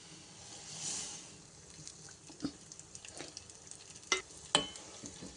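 A spice tempering with prepared kuriya stirred in a pan after the gas is switched off, soft scraping and light sizzle with a few sharp utensil knocks near the end, no talk.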